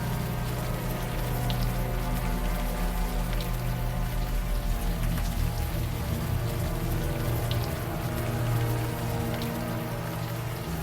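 Warm rain falls steadily in the adventure game Unavowed, a dense, continuous hiss of drops with a low rumble beneath and no voices.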